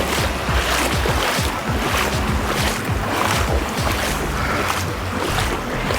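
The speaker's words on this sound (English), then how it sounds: "as you can probably hear, I am walking in the water" Sloshing splashes of feet wading through shallow sea water at Chaweng Beach, Koh Samui, Thailand, repeated in a steady walking rhythm, with waves and wind washing around them close by.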